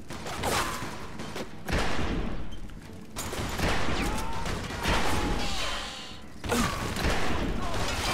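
Bursts of gunfire in Mafia II crack repeatedly in rapid clusters, loud and close, with brief pauses between volleys and busy background noise.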